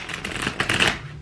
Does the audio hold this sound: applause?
no